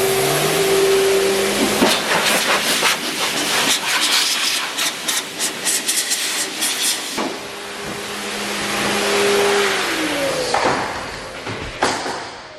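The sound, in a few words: Obsessed air dryer blower, 4 horsepower motor, switched on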